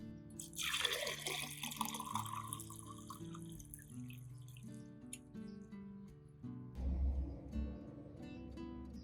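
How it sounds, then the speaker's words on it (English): Garlic solution splashes into a cup for soaking an orchid's base, starting as a brisk pour just after the beginning, then thinning to trickles, drips and light clinks, close and fairly quiet. "Place it in a cup, pour the garlic solution in, and soak it for 20 minutes."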